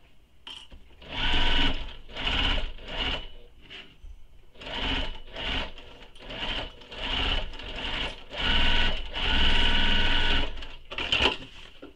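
A sewing machine top stitching a pocket onto a Riva Mini backpack, running in a series of whirring bursts of varying length separated by short pauses, close and clear with no talk.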